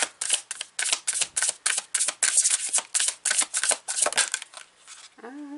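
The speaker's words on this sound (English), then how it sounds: "Let's pull some more cards, Pisces." Tarot cards are handled and shuffled in quick, crisp flicks and snaps, a busy rhythmic patter close to the ear that stops just before a short tonal sound at the end.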